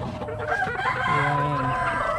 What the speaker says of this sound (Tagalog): So, tingnan natin yung ibang manok dito sa kulungan.